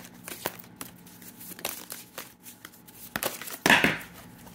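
New circular tarot cards are shuffled by hand in stiff, crinkly bursts with scattered soft flicks and taps, ending in one louder riffle close to the microphone.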